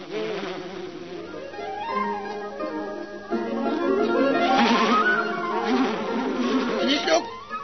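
Cartoon bees buzz in an old animated film, wavering rising and falling drones that grow louder midway, mixed with voices speaking.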